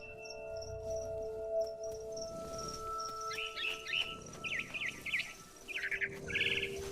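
A frightened bird chirps in the video game What Remains of Edith Finch, quick bright tweets that grow busier toward the end over a low ambient drone, with no talking.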